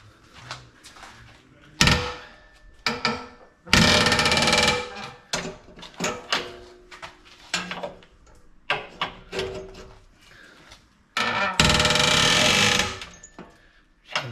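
A spanner works a front lower wishbone bolt on a Land Rover Discovery 3, giving intermittent metallic clanks, scrapes and bursts of ratcheting and rattling spread across the clip, fairly close and alone.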